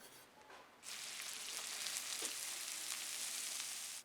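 Sudden loud sizzling as finely chopped garlic hits a hot frying pan, a steady bright hiss that continues evenly until it cuts off.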